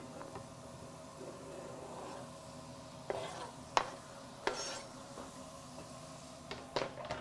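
Diced apples go into a skillet for caramelized onion and apple stuffing, a low background hiss punctuated by a handful of sharp clatters and scrapes as the pieces drop in and get stirred, fairly quiet and close.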